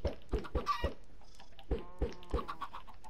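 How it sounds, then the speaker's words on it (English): Minecraft chickens clucking in the video game, several short, close, bursty clucks in two clusters with a pause between them. "I just spawned like fucking 4 chickens from 1 egg"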